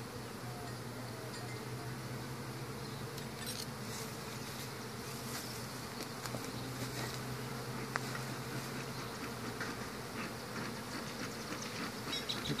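Honey bees from a hive being removed in Harlingen, Texas, buzzing as a dense, continuous drone throughout, with no voices.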